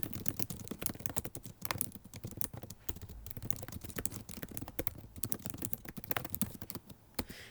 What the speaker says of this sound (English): Now I can type in plain text.